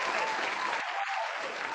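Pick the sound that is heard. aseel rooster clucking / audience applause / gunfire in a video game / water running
audience applause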